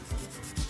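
Two short strokes of a nail file shaping acrylic nails into a coffin shape, soft rasping rubs about half a second apart, close and fairly quiet with no talk.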